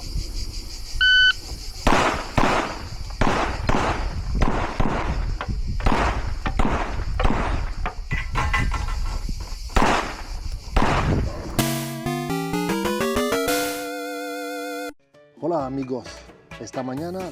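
Sport shooting competition with a rapid series of loud sharp gunshots close by, struck repeatedly in quick succession over a dozen seconds, followed by electronic beep tones; people speak briefly.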